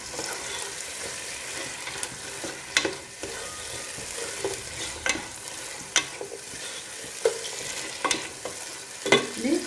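Ten or twelve garlic cloves fry in a pan with capsicum for chicken madhooth, a continuous crackling sizzle broken by regular clicks and scrapes of a spoon stirring, close and moderately loud without talk.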